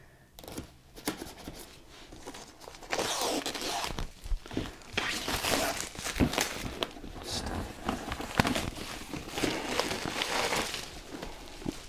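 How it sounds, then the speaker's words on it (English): Thick plastic wrap is torn and crinkled off a Kill Team Nachmund boxed game, producing close, loud rustling and ripping bursts that run continuously after a quieter opening. "let's unwrap this"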